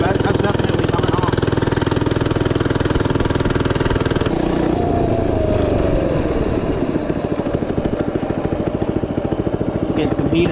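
An FRP GMB 100 retro mini bike engine runs loud and close with a buzzy, steady rhythm that eases to a lower idle-like drone partway through.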